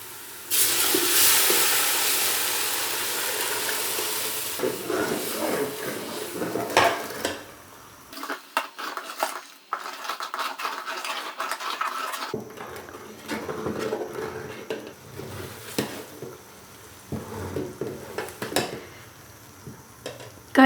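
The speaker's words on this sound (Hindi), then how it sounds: "अब हम इसके अंदर अपना लस्सी और बेसन का मिक्सचर ऐड करने लगे हैं।" A lassi and gram flour mixture going into a pan of frying spices for kadhi and being stirred, with a long hiss and sizzle at first, then intermittent scraping and clattering of a spoon against the pan, close by and alone.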